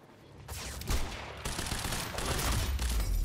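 Sustained LMG fire in the video game Quantum Break rattles out in dense, continuous bursts that grow louder and heavier toward the end, with no talking over it.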